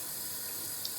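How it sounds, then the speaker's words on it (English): Plastic Caffitaly coffee pod casing rinsed under a steady stream of running tap water at a sink, a continuous near splashing hiss with no talk. "So you're going to rinse the main pod,"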